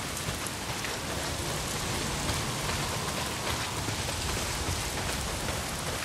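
Heavy rain pours in the video game Days Gone, a dense, loud, unbroken downpour hissing and pattering across surfaces with no pauses and no voices.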